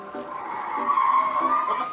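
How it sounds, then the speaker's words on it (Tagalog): A cartoon car skids in a children's animation, a loud, steady tire squeal lasting about two seconds with no pause. "Tignan nyo, mayroong kotse."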